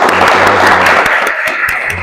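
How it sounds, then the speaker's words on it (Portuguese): A short burst of audience clapping during a youth public-speaking contest, loud and close, with a low hum running beneath and individual claps standing out as it thins. "eu gostaria que batêssemos uma salva de palmas"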